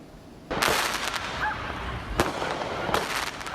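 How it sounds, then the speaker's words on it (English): Illegal fireworks bursting at night in Brooklyn, with three sharp loud cracks spread across a few seconds over a steady crackling, hissing background. "illegal fireworks seem to be everywhere"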